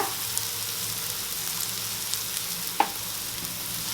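Chopped onions with salt sautéing in a pan for an egg gravy, a steady soft sizzle with occasional faint taps of stirring, no voices.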